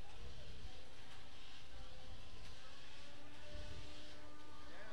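Antweight combat robots spin up their weapon motors in an arena, a steady buzzing whine over a broad rushing noise floor, with a commentator talking over it.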